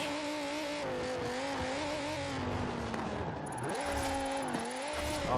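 Formula Drift car in Forza Horizon 4 revving hard through a drift, the engine note rising and falling continuously with shifting pitch and faint tyre squeal, loud and close, with no talking.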